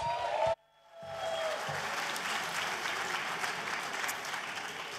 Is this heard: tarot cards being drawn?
no